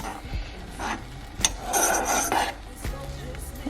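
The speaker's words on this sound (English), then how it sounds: "I'm going to give this a nice mix" Banana with cinnamon being mixed in a hot pan, a utensil rasping and scraping steadily across the pan's surface in close, continuous strokes with a few sharper knocks.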